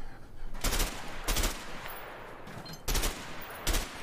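Gunfire in a video game: a handful of separate loud shots spaced irregularly over a steady background, with no one talking.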